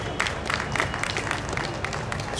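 Audience applause at a Dahi Handi festival stage event in Patna's Miller Ground, a steady wash of clapping from a crowd lasting a couple of seconds, fairly loud and continuous.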